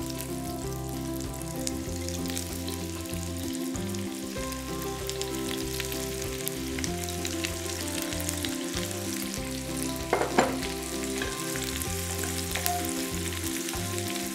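Onion rings fry in a pan over melted fat, a steady close sizzle running throughout with occasional louder crackles and stirring scrapes, no voices.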